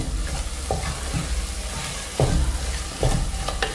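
Ginger garlic paste sautéing with tomatoes in a pan, a steady close sizzle under a few sharp spatula scrapes and stirs, fairly loud and with no one speaking.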